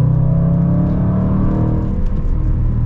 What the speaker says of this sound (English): we're gonna get our acceleration here shortly with the SVR